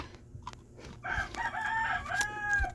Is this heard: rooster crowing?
yes